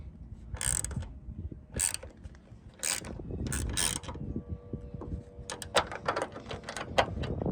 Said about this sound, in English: you need a 10mm wrench, 5mm Allen, and you just rotate it